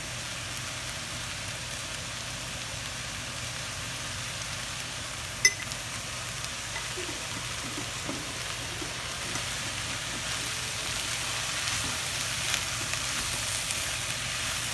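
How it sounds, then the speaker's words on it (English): Bitter melon frying with turmeric powder over a medium flame gives a steady, moderately loud sizzle throughout, with a few faint clinks from stirring. "Mix this thoroughly and let it roast for at least 5 to 6 minutes."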